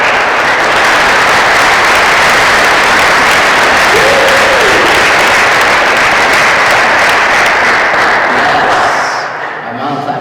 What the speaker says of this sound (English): my mom claps even louder